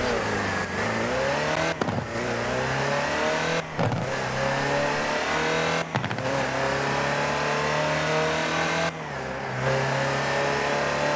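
A Land Rover Series Type 3 engine driving in the video game Forza Horizon 4, revving loudly through repeated gear changes, with the pitch climbing and then dropping briefly about every two seconds.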